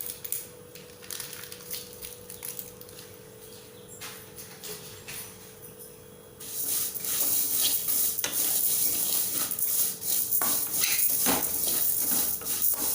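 Dal frying in oil and ghee for semiya upma: quiet stirring at first, then a loud, steady sizzle takes over partway through and continues with scraping stir strokes, up close with no talking.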